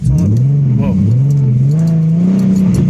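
A 2011 Mustang with a 3.7L engine and a swapped-in MT82 manual transmission driving in cold weather, its engine droning loud and close with a rising and falling pitch while someone talks over it.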